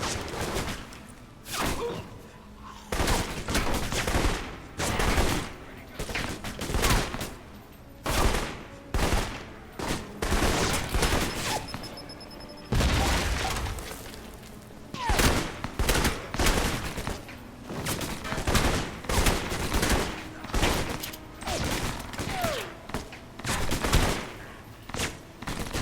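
Rapid bursts of video game gunfire from Alpha Protocol, a fusillade of repeated shots and automatic fire that runs nearly continuously at close range, with short gaps between volleys.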